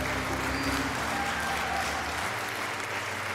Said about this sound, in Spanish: De un aplauso bien fuerte.